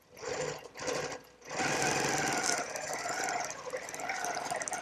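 A sewing machine quilts along an adhesive-backed ruler on a cathedral skyline quilt, running in short bursts and then a steady, close, loud whir for several seconds with no one speaking.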